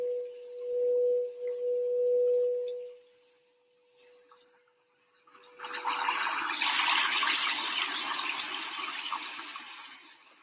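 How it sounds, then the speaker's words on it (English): Gentle flowing water of a babbling brook, a broad steady wash that swells in after a few seconds of a sustained pure tone and continues loud and close to the end. "I want you to sit here now as we listen to this babbling brook."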